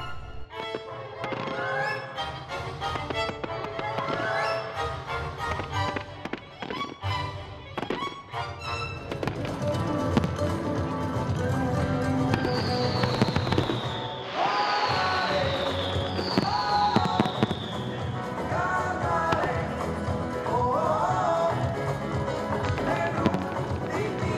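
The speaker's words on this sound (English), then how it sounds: "Being choreographed to music is very different from a traditional fireworks show because the music and the fireworks need to blend" Fireworks choreographed to music burst at GlobalFest, an outdoor festival in Alberta, with repeated thumps, crackles and rising whistles over a music track that plays throughout.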